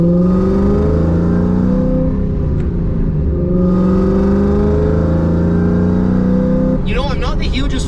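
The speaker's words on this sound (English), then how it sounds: "I'm not the hugest fan of the side exit exhaust on this thing, but it does sound good" A loud, deep side-exit exhaust rumble from a 2003-04 Mustang Cobra drones steadily, rising and falling in pitch as the engine revs, ending with a sharp burst near the close.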